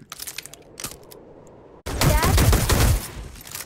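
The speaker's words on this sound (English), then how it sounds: "This gun is pretty hard to use, because there's so much recoil, it'll just shoot up." Rapid automatic gunfire with heavy recoil in a VR shooter game, a loud dense burst that starts abruptly and runs for about a second after a stretch of quieter clicks and faint background talk.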